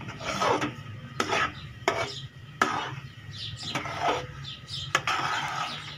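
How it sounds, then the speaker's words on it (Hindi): A spoon scrapes and stirs thickening moong dal halwa in a pan, producing repeated rasping, scraping strokes at an even rhythm, close up with no talking. "इसको चम्मच चलाते रहें।"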